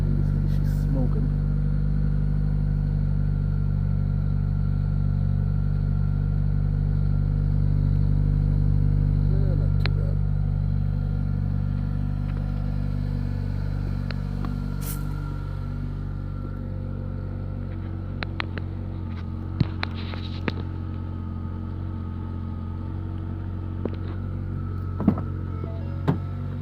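Idling engine of a 2011 Ford Focus or 2008 Ford Fusion just after a cold start, a steady low rumble held close and loud throughout, with a few brief clicks and knocks near the end.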